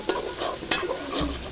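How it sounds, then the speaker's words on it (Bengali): Spice paste is stirred in hot mustard oil for a Hilsa fish and bottle gourd curry, giving a brief close sizzle with a few sharp spatula scrapes against the pan. "দিয়ে হালকা নাড়াচাড়া করে একটু করে নেব"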